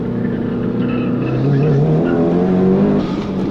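A Mitsubishi Evo race car drives hard, its engine droning loud and close with rising harmonic pitch as it accelerates, a continuous onboard roar.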